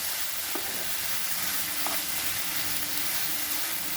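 Ridge gourd and potato in poppy-seed paste fry on a high flame, a steady close sizzle with soft scraping as the mix is stirred around the pan.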